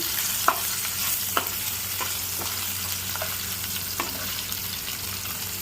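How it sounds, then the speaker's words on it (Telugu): Dried silver fish frying in a pan for a brinjal curry, giving a constant close sizzle with a few scattered stirring taps over it and no speech. "ఈ ఎండు నెత్తల్ని బాగా ఫ్రై చేయాలండి"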